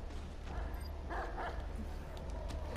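A dog in Watch Dogs 2 whimpers and yips in short, faint, high-pitched bursts over a steady background hum.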